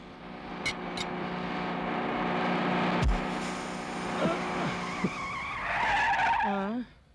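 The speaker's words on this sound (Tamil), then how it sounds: "என்னது டயர் பஞ்சர் ஆன மாதிரி இருக்கு?" Car tyre skidding and squealing in a film scene, a rising screech that builds toward the end and cuts off, with a sharp bang-like thump partway through, heard under a steady music bed.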